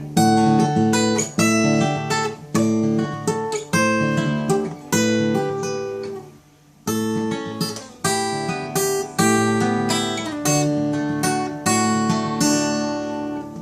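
A guitar in drop D tuning strums chords and riffs in punchy repeated bursts, with a short pause midway.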